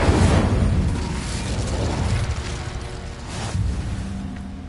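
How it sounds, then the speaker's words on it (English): The Incendio fire spell is cast in Hogwarts Legacy, giving a dense, roaring burst of flame and crackle. It stays loud and sustained for several seconds with a second swell near the end. "Incendio!"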